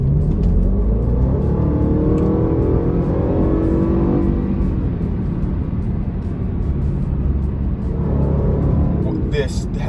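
A 2016 Range Rover Sport with a 510-horsepower supercharged V8 engine accelerates hard, its steady, loud engine roar rising and falling in pitch as the SUV builds speed.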